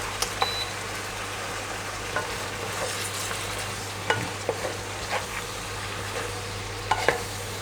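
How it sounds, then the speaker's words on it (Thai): Chinese cabbage stir-fried with egg tofu and minced pork in a pan, giving a steady low sizzle with occasional scrapes and clicks of the spatula, fairly quiet, with a constant background hum. "แล้วเราก็จะผัดจนกว่าผักจะสุกนะครับเพื่อน ๆ"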